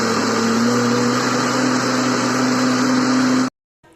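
A blender motor whirs loudly and steadily while blending semolina, thickened milk and mango, a constant droning hum that cuts off abruptly near the end.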